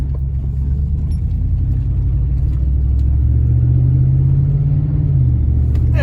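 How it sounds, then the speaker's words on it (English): Heard from inside the cab, a 1998–2005 Ford Expedition's exhaust gives a loud, steady low rumble while driving on a bumpy road, with a brief rise in pitch as it pulls before settling back. "As you can see from inside the truck, the exhaust sounds nice."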